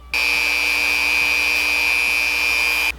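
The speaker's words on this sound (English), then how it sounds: "Now I gotta see if I can sand those down." Raised epoxy tabs are sanded down on a handcrafted piece: a steady, close, continuous abrasive whine with a fixed tone runs unbroken for about three seconds, with no talking.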